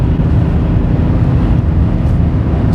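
A BMW 630d GT diesel is floored at full throttle, giving a loud, steady, dense engine roar with wind rush throughout and no talk.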